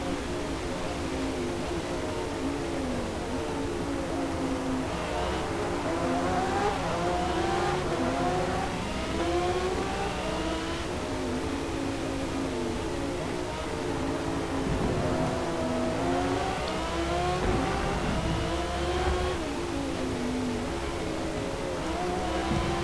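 Race car engines rev and wail in Forza Motorsport, among them a Ferrari and a mid-engine muscle car, with rising and falling gear-shift sweeps and occasional tire squeal, loud and continuous throughout.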